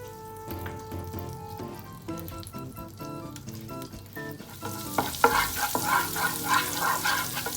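Olive oil and butter start sizzling in a frying pan, a soft crackling hiss that rises in the last few seconds after a quieter stretch with background music.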